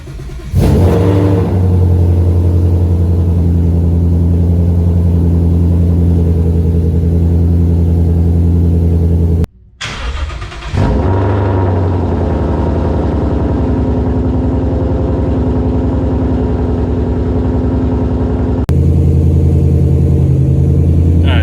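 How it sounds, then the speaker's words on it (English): A car's engine cold-starts with a loud crank and catch, then runs at a steady, rumbling idle with a high-revving drone; a brief stall-like dip and restart come midway, and a gear engagement is attempted while the car sits in neutral. "So this is the cold start."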